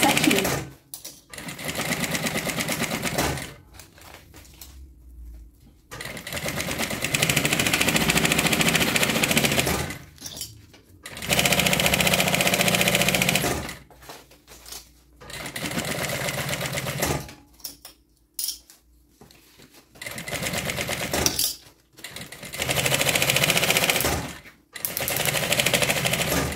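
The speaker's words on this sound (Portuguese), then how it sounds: "Agora eu vou costurar toda a volta só pra prender esse forro aqui no lugar." A sewing machine runs in long loud bursts, stitching around the lining of a bag, with short pauses between runs and a steady close mechanical whir throughout.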